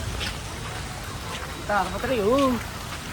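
Steady rain patters across the whole stretch, with a voice briefly rising over the downpour near the end.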